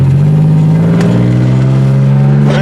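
A 1990 Pontiac 6000 with factory all-wheel drive revving hard, its engine drone loud and close with a steady rising pitch and some clatter, no speech over it.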